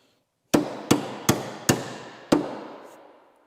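A hammer strikes a socket to drive out a broken spindle: five sharp metallic blows, the first four evenly spaced and the last after a short pause, each ringing out briefly. The blows are close and loud, with no voices.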